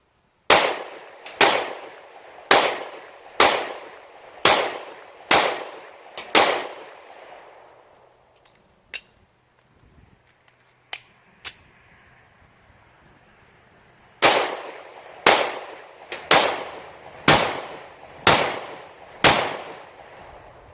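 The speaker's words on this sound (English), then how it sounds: "we're going to put some rounds through the Taurus GX4 right now" A Taurus GX4 pistol firing at a shooting range: two strings of evenly spaced, sharp, loud shots with ringing decay, about eight in the first and seven in the second, split by a quieter pause holding a few isolated clicks.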